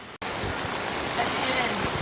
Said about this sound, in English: This is flooding rain.